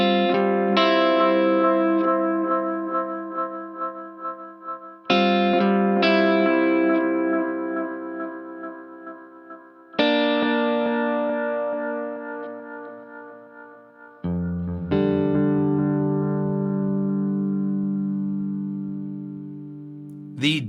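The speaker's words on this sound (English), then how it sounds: "The Digitech Obscura is the digital anti-digital delay pedal." An electric guitar runs through a Digitech Obscura delay pedal, ringing out four separate chords or strums about five seconds apart, each decaying with smeared, degraded echo trails, moderately loud with no talking.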